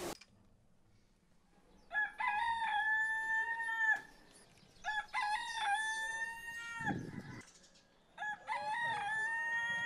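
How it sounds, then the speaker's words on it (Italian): A rooster crows in a seaside town on Santiago island, Cape Verde, three full cock-a-doodle-doo calls spaced a few seconds apart, clear and fairly near over quiet morning background. "Oggi a svegliarci è stato il canto del gallo"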